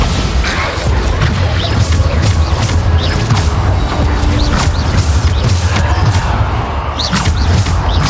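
Bombarda blasting spells in Hogwarts Legacy go off as loud, continuous booming crashes, one explosion after another in a relentless, close barrage.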